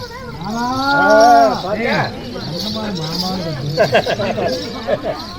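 A performer in Tamil street theatre, at a village festival play, imitates a cow with a loud, drawn-out mooing call up close, followed by shorter, softer vocal sounds.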